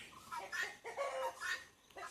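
A chicken on a small farm that also keeps goats and a dog clucks in several short, fairly quiet bursts with brief pauses between them, with no voices over it.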